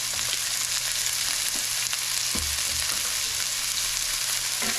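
Onions and cabbage fry in olive oil in a pan, giving a loud, dense, even sizzle that holds steady throughout with faint low clatter beneath and no voices.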